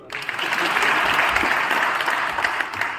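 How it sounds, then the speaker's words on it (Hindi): An audience at a Rajasthan Gurjar youth conference breaks into dense, sustained applause, a loud wash of many hands clapping at once that carries evenly for a few seconds. "ताली बजाइए इनके लिए"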